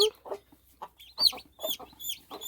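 Hens and chicks roam a village yard and alleys, giving close, repeated clucks with sharp, high peeping calls from the chicks scattered between them, with no talk.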